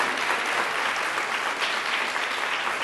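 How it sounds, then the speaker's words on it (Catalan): A studio audience at a game show breaks into loud, sustained applause, a dense, even wash of clapping with no talk over it. "Aplaudiment, home."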